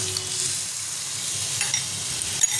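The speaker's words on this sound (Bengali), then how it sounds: "এবার আমি পরিমাণ মতো এই চানা সেদ্ধ করা জলটা আমি দিয়ে দিলাম, কাবলি চানার জলটা" Boiled kabuli chickpea cooking water goes into frying chana in a home kitchen. A soft, close sizzle runs with light stirring scrapes and a few small clinks, and nobody speaks.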